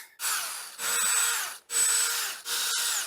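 A power drill backs screws out of the underside of a DIY axe-throwing target in four close, loud whirring bursts separated by short pauses, with no talking.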